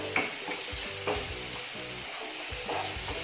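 Fahita masala with capsicum, tomato and coriander leaves being stirred in a pan, a soft steady sizzle with a few clinks of the spoon against the metal, close and alone with no voices.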